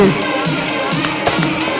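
An award-ceremony audience claps in a brief, steady burst of applause for a winner, with a slight rise in the middle.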